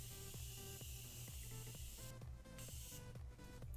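Morphe setting spray mists out in a few short bursts of hiss, close to the mic, layered over steady rhythmic background music.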